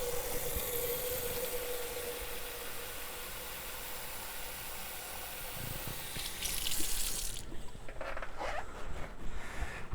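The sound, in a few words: rinsing out a container with water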